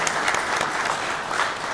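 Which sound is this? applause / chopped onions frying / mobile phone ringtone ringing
applause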